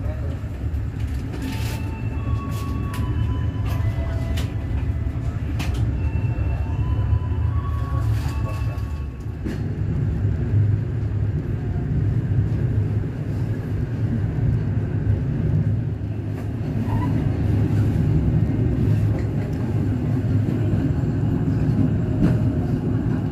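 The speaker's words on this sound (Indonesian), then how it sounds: "perjalanan kereta api Kahuripan telah diberangkatkan kembali dari stasiun Lepuyangan Yogyakarta" The Kahuripan passenger train departing Lempuyangan station in Yogyakarta, heard from inside as a steady low rumble that rises slightly as it pulls away, with a few faint clanks and a voice over it.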